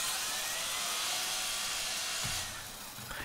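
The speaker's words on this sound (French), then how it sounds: "j'ai débloqué la scie niveau 2 qui me permet de faire ça" Level 2 saw weapon firing in the video game Far Cry New Dawn, a loud, sustained high-pitched whirring buzz like a spinning blade that holds steady, then eases slightly near the end.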